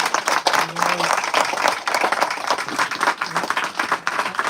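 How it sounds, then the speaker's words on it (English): An audience claps loudly and continuously at a talk held in a London bookstore, a dense close wash of applause with a few faint voices mixed in. "Let's give a round of applause for Dr. Nader."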